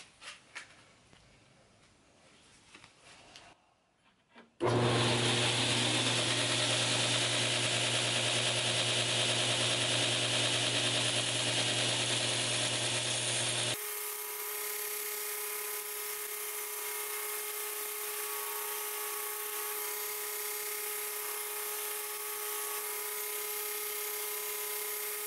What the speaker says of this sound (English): So we're using a new 36 grit belt for this.